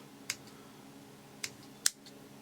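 Small scissors trimming fly-tying materials on a tiny bomber fly, three sharp, quiet snips spaced apart over a faint steady background hum.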